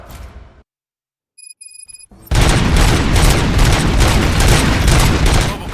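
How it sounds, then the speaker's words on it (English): Dense, loud gunfire erupts in the video game RoboCop: Rogue City and continues as a sustained barrage after a short silent gap broken by a few electronic beeps. "Gunshots? What's going on?"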